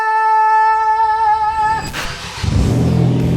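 A small car engine of roughly 70 to 75 horsepower catches after a sustained steady tone, then rumbles low and revs up loud and close.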